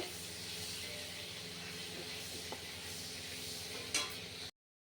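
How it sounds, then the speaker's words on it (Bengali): Fish frying in oil in a home kitchen, a steady soft sizzle with faint stirring and a brief clatter near the end, low and continuous throughout. "মাছ ভাজা হয়ে গেছে"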